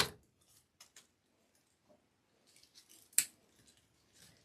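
Scissors snip through craft material in a few short, crisp cuts with quiet pauses and light handling noise between them, close and soft.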